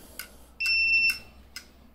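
An Artillery Sidewinder X2 3D printer beeps when switched on: one clear electronic tone held for about half a second, framed by faint clicks, in an otherwise quiet room.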